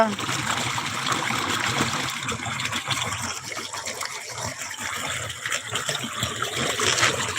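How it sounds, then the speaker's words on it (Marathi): Canal water runs into a wheat field on a Vidarbha farm, a continuous rushing, trickling flow heard close by, with a voice talking over it. "आणि आपण कॅनलच्या पाणी देत आहोत आता बघू शकता"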